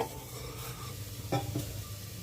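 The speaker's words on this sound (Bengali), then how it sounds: "দিয়ে আবার ভালোভাবে নাড়াচাড়া করছি।" A spoon stirring sambar vegetables and dal in a pot, with soft scraping and a low simmering sizzle, plus a couple of brief louder scrapes near the end.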